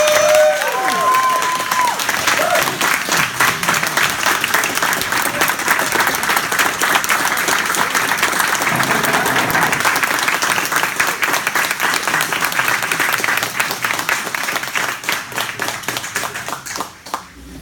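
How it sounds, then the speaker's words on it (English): Audience at a state representative campaign kickoff for Oregon's House District 19 breaks into sustained, dense clapping that holds loud and steady for the whole stretch, with a few brief tonal sounds near the start. "Let's give him one more round of applause."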